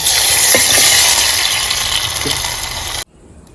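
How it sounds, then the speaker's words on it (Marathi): A pot of crab curry gravy with onion and masala bubbles and sizzles in a steady, loud wash of frying noise, with a couple of soft knocks before it cuts off abruptly near the end. "तर आपला खेकड्यांचा रस्सा इकडे तयार होतोय"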